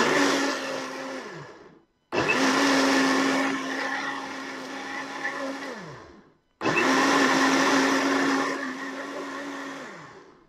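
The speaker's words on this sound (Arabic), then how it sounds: "اضربه بالخلاط اهو، شايفين؟" An electric blender processes orange and beetroot in three loud bursts, each a steady high motor whir that winds down sharply, separated by brief silent pauses, with no talking.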